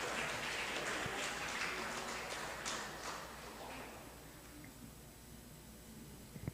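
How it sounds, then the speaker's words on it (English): A quiet conference audience at an academic opening ceremony applauds a speaker, a soft, distant patter of clapping for about three seconds that fades into near silence. "Let's give applause for our speaker."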